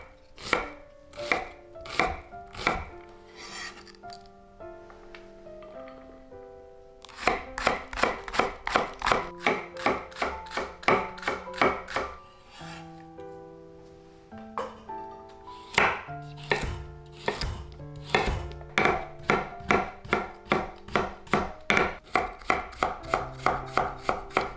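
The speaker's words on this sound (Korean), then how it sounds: "당근과 파, 양파를 작게 잘라줍니다." A knife chops carrots, green onions and onion on a cutting board in quick, rhythmic bursts of close, crisp taps, with short pauses between runs and music playing underneath.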